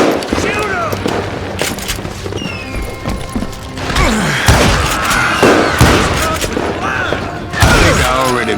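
Gunfire in the Western shooter Call of Juarez Gunslinger, a saloon-era gunfight with scattered loud shots and booms among clanking effects, while voices shout and talk throughout.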